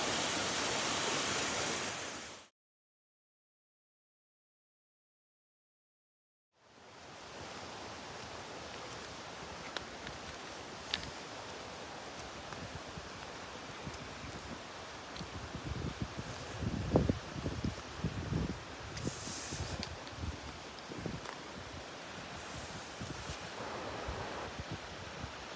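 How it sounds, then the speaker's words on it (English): Mountaineer Falls on the Appalachian Trail pours in a steady, broadband roar close by, a continuous rushing wash of water that runs unbroken apart from a brief silent gap near the start. "This is Mountaineer Falls"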